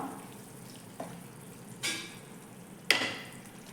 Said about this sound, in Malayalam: ചെമ്മീൻ ഇട്ട് കൊടുത്തതിന് ശേഷം എല്ലാം നന്നായി ഒന്ന് മിക്സ് ചെയ്ത് എടുത്തിട്ടുണ്ട്